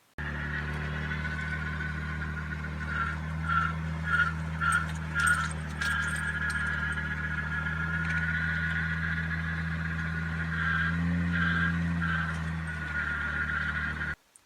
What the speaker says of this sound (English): Both wheels were towed in, so they were fighting each other, and it was just squealing going straight